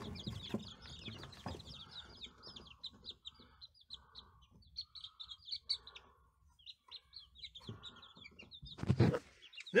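Chickens and a rooster on a homestead, with clusters of clucks and chirps at moderate distance over quiet gaps, and a louder burst of activity near the end.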